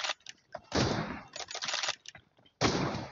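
Gunfire crackles during a video game battle, with loud bursts of rapid shots broken by short pauses and one final burst at the end.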